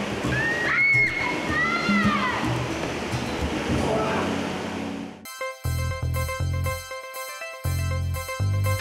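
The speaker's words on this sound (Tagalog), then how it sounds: "malakas ang agos ng tubig sa loob ng kuweba" Strong water current rushing inside a cave, a loud, steady, broadband roar with voices and shouts over it for about five seconds before music abruptly takes over.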